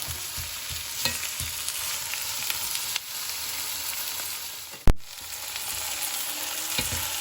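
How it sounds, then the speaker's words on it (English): Meat searing in hot oil in a pan for Tiroler Gröstl, with a continuous loud sizzle and crackle, a few clicks and scrapes, and one sharp clatter partway through. "Now I'm just going to put the meat in and just give it a little colour on both sides of the meat."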